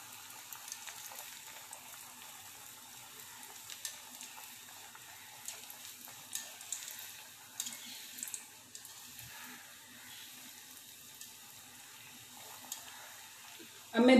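Cheese balls frying in a pan give off a faint, steady crackling sizzle with small irregular pops and occasional soft clinks, and a light voice is present in the background.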